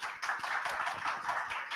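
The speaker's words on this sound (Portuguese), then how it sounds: "Salve de palmas aqui, pessoal." Brief clapping from an audience at a Brazilian talk on communication strategy, a short burst of close, lively hand claps at moderate volume with no voices over it.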